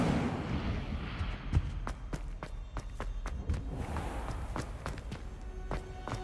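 Incendio fire spell cast in Hogwarts Legacy gameplay: a run of sharp, crackling bursts and thumps falls in quick succession over a rumbling low bed, moderately loud and close, with no talk.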